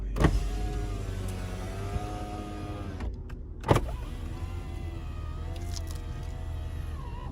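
Electric windows on an old car whir up and down in several long strokes at close range, each run ending in a sharp thunk, over a steady low engine hum.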